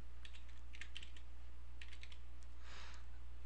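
Quick bursts of keystrokes on a computer keyboard, light clicking taps in short clusters with a pause between, heard close over a steady low hum.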